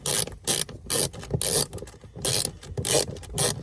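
Puck ratchet cranking bolts tight on a Toyota 4Runner rear storage cover, quick bursts of close, crisp clicking in a repeating rhythm with brief pauses between strokes.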